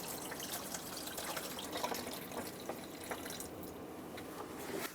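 Old washer fluid is poured out of the reservoir of a 2003-2009 Dodge Ram 2500 HD, making a close, continuous trickling and splashing of liquid with small dripping spatters, no voices.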